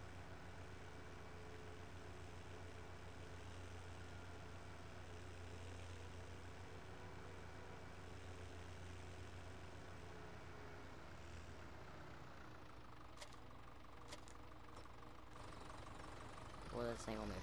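A tractor engine in the farming video game Farming Simulator 17 runs as a steady, faint low drone, continuous throughout with no break.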